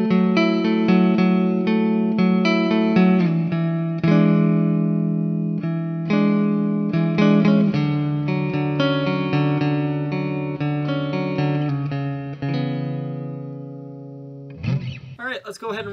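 A 2022 Fender 60th Anniversary Jaguar Mystic electric guitar on its rhythm circuit, played through an amplifier with effects: strummed chords and picked notes ringing with chorus and reverb for most of the clip, then a few scratchy string noises at the end.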